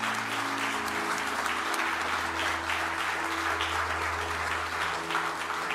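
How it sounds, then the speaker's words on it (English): A church congregation claps together in a continuous, even wash of applause, with a low sustained tone droning underneath. "Would you clap your hands?"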